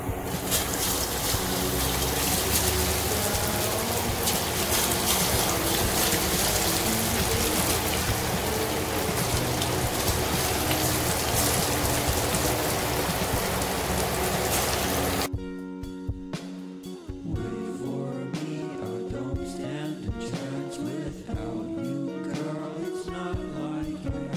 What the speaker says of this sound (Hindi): अभी जो बाकी का बैटर बचा है उसको भी हम फ्राई कर लेंगे